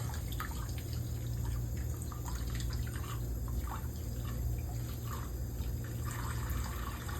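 Water runs steadily from a tap with light splashing and clinks as objects are rinsed beneath it, no talking.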